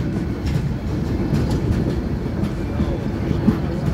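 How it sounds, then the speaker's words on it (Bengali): A train rolls into the platform at Cox's Bazar station, a steady low rumble of wheels and carriages that stays loud and continuous throughout, with faint rattling on top. "ট্রেনটি এখন কক্সবাজার স্টেশনের প্ল্যাটফর্মে ঢুকতেছে।"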